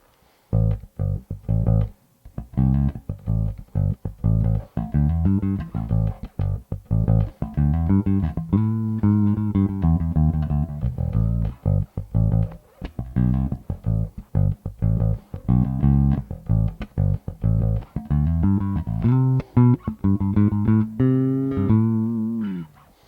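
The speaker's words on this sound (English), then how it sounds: "this is the sound of all pickups on." A Rickenbacker 4003 bass guitar with all pickups on plays a busy run of plucked notes for over twenty seconds, full and punchy, with no voices.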